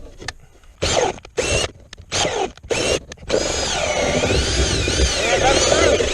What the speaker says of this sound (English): Sometimes you have to drill, clean up the hole, go backwards, go forward.